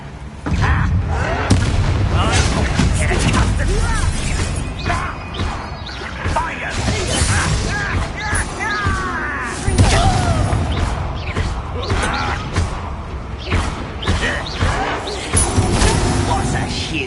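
A Bombarda blasting spell in Hogwarts Legacy, cast in a mine, sets off a dense, loud stretch of explosive bangs, crashes and whooshes that runs throughout, with voices speaking over the din.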